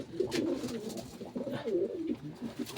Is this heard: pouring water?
no